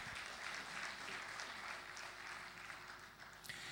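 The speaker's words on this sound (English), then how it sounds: "one more time, another round of applause for Total" Applause from a conference audience at an opening ceremony fills the clip, a steady dense wash of clapping that continues without letting up.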